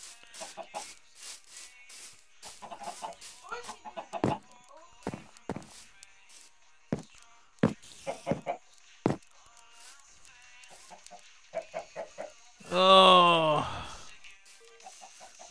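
A video game chicken gives a short, loud burst of clucking near the end, after scattered soft clicks and taps.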